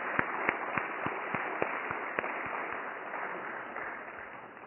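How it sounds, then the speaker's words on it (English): Audience applause at a Rotary Club of Abington 80th anniversary celebration: steady, moderately distant clapping from a crowd, sustained and slowly fading toward the end. "Please join me for a richly deserved round of applause for Patrick."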